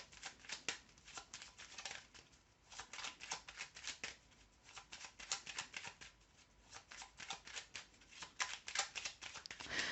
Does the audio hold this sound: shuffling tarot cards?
yes